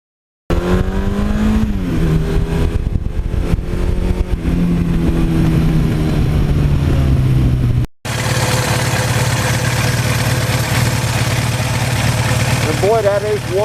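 A 1982 Suzuki GS1100E motorcycle engine with about 73,000 miles idles close by, a steady loud four-cylinder burble with a few revs early on, a brief cut midway, then settling back to an even idle.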